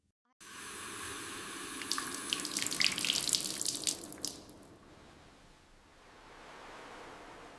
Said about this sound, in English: I wash my face.